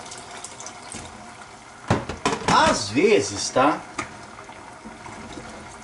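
Water poured into a pot while cooking polenta with meat ragù, a splashing, gurgling pour lasting a couple of seconds with brief spurts, heard near and fairly loud, with a short spoken remark over it.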